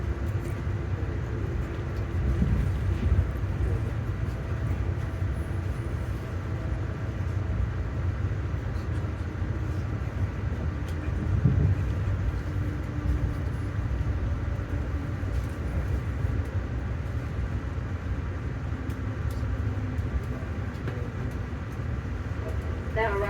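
An Amtrak train rolls into Princeton Junction with a continuous low rumble and wheel noise, steady and enclosed as if heard from inside the car, with a couple of faint clunks along the way.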